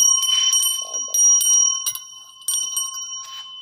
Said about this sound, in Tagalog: Sanctus Bell. Nalikit natin dito.